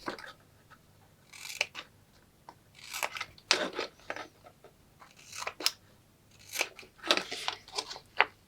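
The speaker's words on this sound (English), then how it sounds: "Then I come back with my scissors and I cut my bottom tabs." Scissors snipping paper tabs for a handmade miniature Advent calendar, close and quiet, a series of short crisp cuts in irregular bursts separated by pauses.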